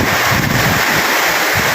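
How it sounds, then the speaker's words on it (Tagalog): Strong typhoon wind roars steadily outdoors, loud and continuous broadband gusting buffeting the microphone, with water spray and rain in the background. "Ayan guys, sobrang lakas ng hangin."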